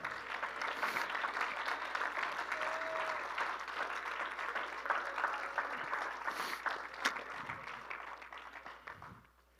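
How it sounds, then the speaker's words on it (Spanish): Congregation applause during a church sermon, sustained clapping from a large room that holds steady for several seconds and then tapers off, moderately loud and somewhat distant. "¿Alguien le puede dar un aplauso al Señor?"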